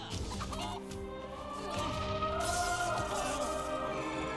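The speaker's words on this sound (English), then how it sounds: "We'll just go ahead and bust out the chickens." Chickens cluck in a video game, several birds at once in a busy layered flurry that stays steady and fairly loud over tonal game music and effects, with no talk.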